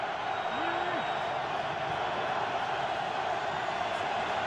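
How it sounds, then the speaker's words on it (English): A Buffalo Bills stadium crowd roars steadily for the home defense during a 2012 NFL game against the Miami Dolphins, a broad, sustained wash of cheering noise heard from afar and constant throughout. "Crowd getting into it for the Bills defense"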